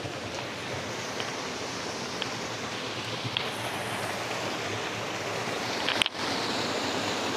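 Waterfall at Hidden Lagoon in Barangay Tua, Magallanes, Cavite, a steady broadband rush of falling water that holds even and continuous throughout, fairly close, with a brief knock near the end.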